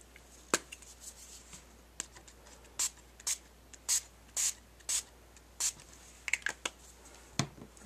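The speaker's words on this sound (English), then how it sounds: "I think now I will just spray some." Glimmer Mist shimmer spray misted onto paper in a series of short, sharp hissing bursts, about a dozen spaced through the clip and fairly close, with faint handling noises between them and no talking.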